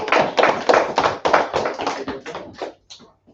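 A Sabbath service congregation claps together in a quick, steady rhythm of sharp, close hand claps that thins out and trails off into a few scattered last claps.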